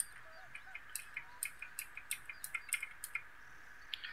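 Birds calling in a game's lakeside scene beside a large loch on the Cathcart Circle Line in Train Sim World 2, with ducks and geese; a string of short, faint chirps and squawks repeats roughly every half second over a quiet background.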